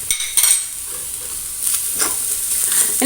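Sugar and cardamom powder being stirred together in a pan as a sweet filling: close, soft scraping and shuffling with a light hiss, a few louder strokes at the start and again near the end, no voices.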